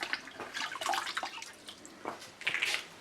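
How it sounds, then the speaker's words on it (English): Running water rinses a metal-prepped Morris Minor gearbox part that had been rusty, splashing and trickling unevenly with short bursts of spray, close by for about three seconds. "Let me just rinse that off."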